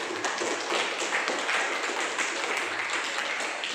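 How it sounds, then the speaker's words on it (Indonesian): Classroom audience applauding after a student group finishes its presentation, a steady patter of hand claps sustained throughout at moderate distance, with no talk over it. "Beri tepuk tangan."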